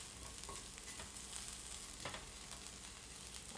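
Acorn squash pieces sizzle steadily in a pan while being par cooked, a continuous soft broadband frying crackle with occasional light pops, moderately quiet and uninterrupted by speech.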